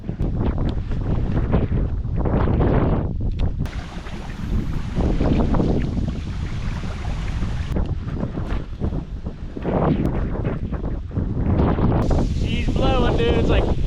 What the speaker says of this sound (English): Just basically trying to keep up with the wind and the current.